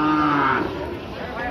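A four-year-old local-breed cow at the Taherpur cattle market lets out one loud, close moo that lasts about half a second. Crowd murmur continues faintly afterward.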